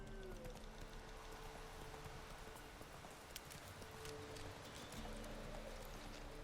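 Horse hooves in The Witcher 3 on Nintendo Switch beat a steady galloping clip-clop under constant game music and ambience, moderately quiet and continuous throughout, with no talking.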